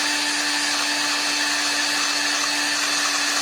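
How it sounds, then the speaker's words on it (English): A power drill bores into wood for a handmade Halloween costume build, giving a steady, loud, close motor whine that holds one pitch throughout with no talking. "I broke the drill bit, and it's not even mine."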